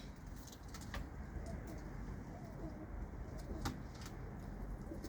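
Long-flying pigeons coo softly at a distance over steady background hum, with a few brief clicks and knocks scattered through.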